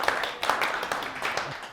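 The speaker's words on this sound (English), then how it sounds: "Can we have a small round of applause for the internet?" A brief smattering of clapping from a small group, light and scattered, lasting under two seconds.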